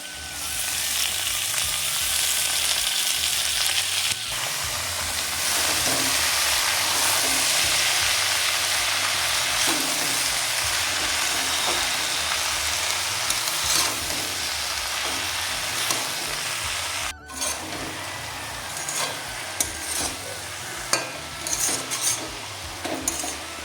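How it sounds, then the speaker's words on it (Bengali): Potatoes and lafa greens sizzle and fry in a hot pan, a steady close crackle, with occasional stirring and the scrape of a utensil against the pan. "আলুটা প্রায় ভাজা ভাজা হয়ে গেছে"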